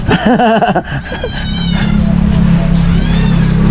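Several cats meow outdoors at a home in the Philippines: a loud, wavering meow up close at the start, then fainter higher meows later over a steady low background hum.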